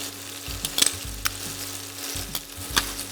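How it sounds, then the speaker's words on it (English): Steak and mushrooms with crushed garlic fry in a pan with a steady, soft sizzle, broken by a few brief metallic clinks and scrapes of a utensil. "I'm gonna let the steak cook for another like 30 seconds to a minute."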